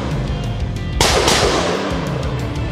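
Gunfire at an outdoor shooting range near Sofia during a tactical shooting day sounds as a sharp loud report over continuous dense background noise, followed by a reverberant decay.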